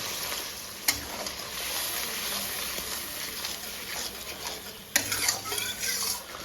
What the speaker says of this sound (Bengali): এবার আমি মশলাটা কিছুক্ষণ কষিয়ে নেব মশলা থেকে তেল ছেড়ে এসেছে